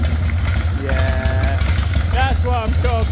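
A custom Triumph motorcycle engine runs with a deep, loud idle, throttle blips rising in pitch, and someone talking over it.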